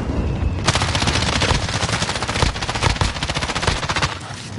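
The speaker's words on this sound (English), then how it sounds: "Taking fire." Loud, close automatic gunfire in a PS5 video game, a continuous rapid rattle of shots that barely pauses for several seconds.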